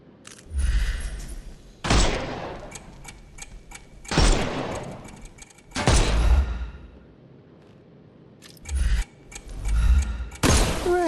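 Bursts of gunfire in Sherlock Holmes: Chapter One as shots strip armour off enemies, several loud volleys separated by brief quiet gaps.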